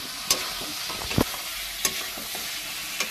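Mutton being stirred and fried in a pan for a curry, with soft sizzling under scattered scraping clicks of the spoon, a few sharper knocks standing out from the steady frying hiss.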